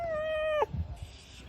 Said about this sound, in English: Don't meow.